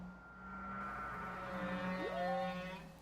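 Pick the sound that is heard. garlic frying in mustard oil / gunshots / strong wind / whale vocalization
whale vocalization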